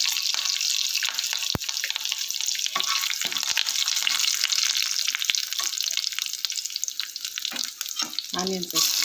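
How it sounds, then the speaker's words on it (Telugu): Curry leaves crackle and sizzle in hot coconut oil over a mustard seed, urad dal and cumin tempering, a steady bright frying hiss throughout with a few sharp pops and some stirring clatter near the end. "కరివేపాకు మరివేపాకు వేసాను."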